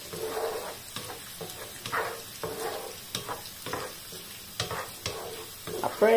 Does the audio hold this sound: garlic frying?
yes